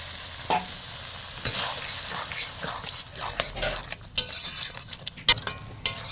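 Spices and coriander leaves for a rohu fish curry sizzle and fry in a pan, with a soft steady hiss broken by scattered spoon scrapes and clinks against the pan.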